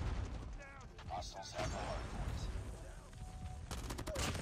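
Gunfire in the Call of Duty Mobile video game: dense bursts of shots and mechanical clatter, with a louder volley near the end, while players talk over the action.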